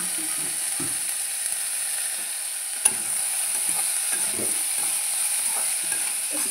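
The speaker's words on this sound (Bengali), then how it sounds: "একটু সবজিগুলো ভেজে নিচ্ছি" Flat beans, radish, potato and peas fry in a pan for dal, giving a soft, steady sizzle broken by the scrape and knock of stirring and one sharp clack.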